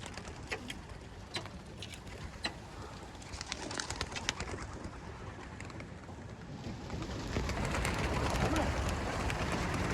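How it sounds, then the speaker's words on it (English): About 325 racing pigeons are released from seven lofts for a preseason 100-mile race, a dense flutter of wingbeats with sharp claps and scattered coos, building into a wider rush of flapping toward the end. "I think we got about 325 birds here."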